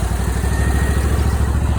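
A Sojourn JTown zero-turn mower engine running at a steady idle, a loud close low throbbing rumble with a constant pulsing rhythm and no voice over it.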